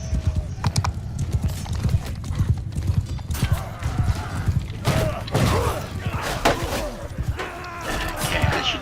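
Horse hooves gallop in a rapid, steady clip-clop in Mount and Blade II: Bannerlord, close and continuous, with a couple of whinnies and thuds mixed in.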